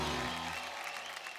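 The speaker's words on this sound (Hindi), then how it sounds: "जोरदार तालियां हो जाए भाई" Steady, dense applause from a television talent-show studio audience, loud and continuous throughout with crowd noise and no clear speech.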